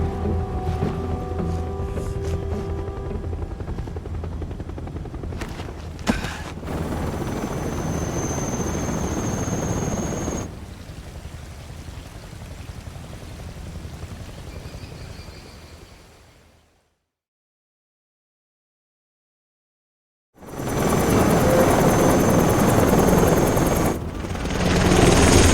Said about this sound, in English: Five helicopters to move that one thing.